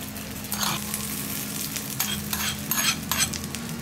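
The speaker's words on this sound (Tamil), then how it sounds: "இப்போ இந்த சட்னிக்கு ஒரு தாளிப்பு கொடுத்துக்கலாம்" Spices sizzle hard in a hot pan as a tempering is made for a coriander and mint chutney, with a constant frying hiss broken by bursts of stirring and scraping close to the mic and no talking.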